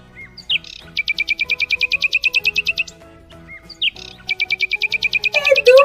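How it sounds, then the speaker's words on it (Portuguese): Small bird chirps in two fast, loud, evenly spaced trills of bright high tweets, each preceded by a short rising call, close and clear with no talking over it. "É do passarinho!"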